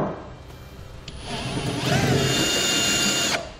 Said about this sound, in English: Once we're satisfied with our pilot holes, we'll go ahead and drill it out.